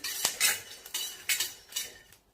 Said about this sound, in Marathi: इथं 2 चमचे धने घेतलेले, धने टाकायचे, परतून घ्यायचे.